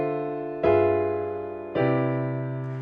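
Two piano chords from a jazz voice-leading progression are struck about a second apart, each ringing full and then slowly decaying, with no talking.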